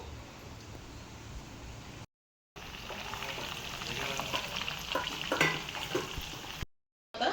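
Chicken pieces frying in oil over a medium flame for KFC-style fried chicken, giving a steady broadband sizzle and crackle that swells slightly midway, with short silent gaps.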